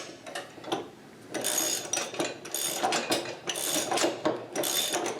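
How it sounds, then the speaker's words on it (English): An open-end adjustable crescent wrench tightens the bottom bolt on a mud mixer. Close, irregular metallic ratcheting clicks and clanks come in short bursts with brief pauses, and no one speaks. "take your open-end adjustable wrench or crescent, grab that bolt on the bottom, and tighten this guy down"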